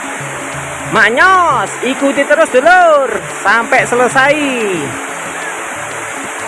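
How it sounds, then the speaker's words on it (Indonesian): The Antrokan waterfall at Manggisan, Tanggul, Jember keeps up a steady rushing hiss of falling water beneath someone speaking loudly and close. "Ini keindahan air terjun Androkan dulur."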